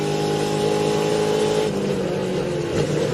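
In-car sound of a race car heading into turn 3 at Queensland Raceway, the engine howling loud and steady with layered revving tones and a brief dip in pitch midway, heard close with no voices.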